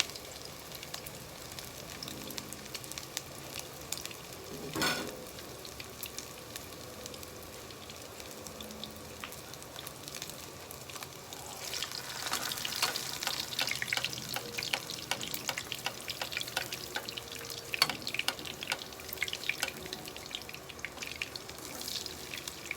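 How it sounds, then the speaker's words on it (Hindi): Peshawari chapli kabab frying in a pan, a quiet sizzle that swells into a louder, crackling spatter midway and keeps going steadily to the end, with no talking. "अब मैं इसमें डाल रहा हूँ फ्राई होने के लिए।"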